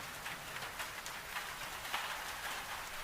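Steady rain falling on an old Highland slate roof on a dark, wet April evening, a soft continuous hiss of drops with faint irregular patters, even and unbroken throughout.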